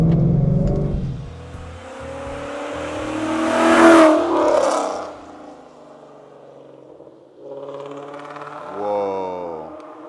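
A Ford Mustang GT engine revved hard at wide open throttle, rising to a loud roaring peak, then dropping back to a lower burble before revving up again, close and powerful.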